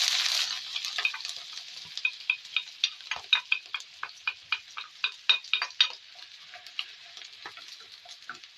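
Onion hits a heated tajine with a burst of sizzling, then settles into a close, gentle fry with a string of rhythmic ticking pops and crackles, no voices.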